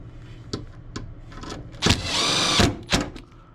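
A power drill drives screws into an LG concealed-duct motor bracket in short bursts, with a couple of quick whirs followed by a longer, louder run and one more brief spin.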